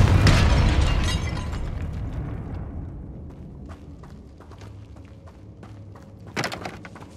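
A Confringo fire spell from Hogwarts Legacy detonates with a loud, close boom at the start, then rumbles and crackles as it fades, ending with a sharp smaller burst near the end.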